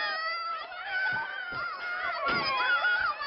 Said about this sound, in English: Cut out that howling.